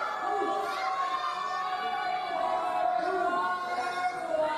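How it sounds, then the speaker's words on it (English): A wrestling crowd at an American Lucha Wrestling heavyweight championship match shouts and jeers at a wrestler, a steady, dense roar of many voices with children's shouts standing out. "the words of the crowd getting under Yela's skin"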